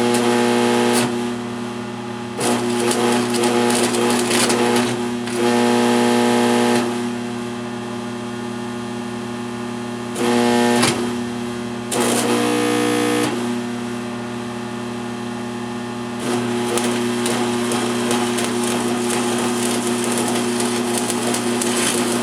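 A Century AC/DC arc welder stick welding on DC, a steady electrical hum broken by several long stretches of harsh buzzing crackle as the arc strikes and holds, then stops, repeating over about twenty seconds.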